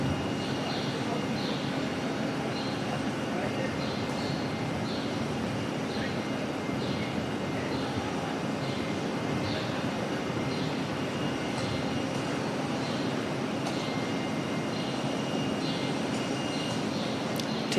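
A Qantas airliner at Auckland Airport, bound for Melbourne, produces a steady distant jet engine rumble and whine that holds evenly throughout, with faint outdoor ambience and some brief ticking sounds.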